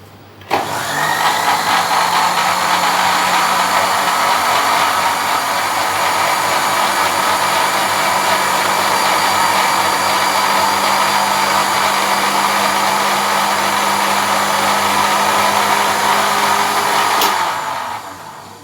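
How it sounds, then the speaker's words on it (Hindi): A mixer grinder whirs loudly and steadily for about seventeen seconds while blending fresh mint margarita ingredients, starting with a sharp rev-up and ending with an abrupt stop, the motor whine alone without talk. "अब हम इसे थोड़ा ग्राइंड कर लेंगे।"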